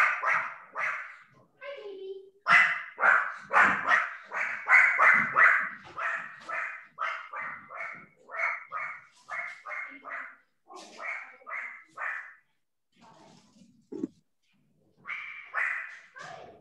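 Small dogs bark and yip repeatedly in rapid bursts, close by and loud, with brief pauses and a whine between volleys.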